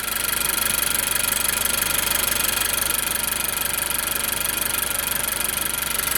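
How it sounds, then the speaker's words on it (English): A Honda Civic Mk10 engine idles steadily up close, a continuous rumble with a fast, even ticking running through it, no voices. "Hopefully you can hear over the ticking engine."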